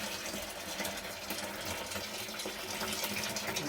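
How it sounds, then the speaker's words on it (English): Hot water from a kettle pours into a plastic fermenter bucket for a pale ale beer kit, a steady, close gushing splash that continues unbroken. "Take your kettle water. Pour that into your fermenter."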